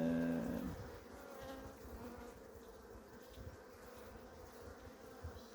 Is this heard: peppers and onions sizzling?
no